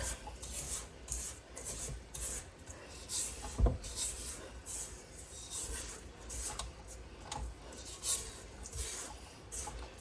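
A spoon scrapes through a pot of tomato sauce with dark brown sugar being stirred in for canning, giving a steady, close rasping and rubbing that repeats in short strokes for the whole stretch, with one sharper knock partway through.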